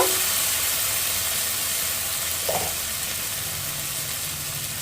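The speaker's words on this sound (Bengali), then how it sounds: "এখন আমি দিয়ে দেব ঝালের জন্য এক চামচ লাল লঙ্কার গুঁড়ো" Red chilli powder frying in a spice paste for a fish curry, a steady close hiss of sizzling oil that continues without a break, with one brief faint clink partway through.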